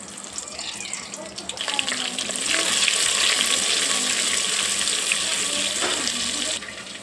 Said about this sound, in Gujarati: તેલ ગરમ થવા મૂકી દીધું અને હવે આપણે નાખી દેવાના રીંગણા